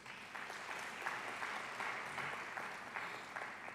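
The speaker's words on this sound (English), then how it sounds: "Can we give a round of applause to her, please?" Modest audience applause at a university research and innovation day, faint and distant, with a fairly thin rhythmic patter of clapping that holds steady for a few seconds.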